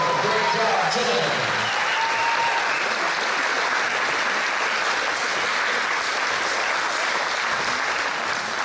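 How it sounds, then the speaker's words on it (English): A crowd gives a high school volleyball team a big round of applause, sustained loud clapping and some cheering that fills the whole stretch, with a voice briefly audible at the start. "let's give this team a huge round of applause"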